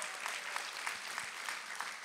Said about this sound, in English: Come on, everybody clap together.